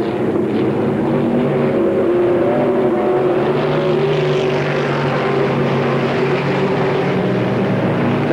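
Race cars circling Pittsburgh's PA Motor Speedway on the final lap of a 1993 event, a loud, continuous engine roar that holds steady without a break and drowns out any other sound.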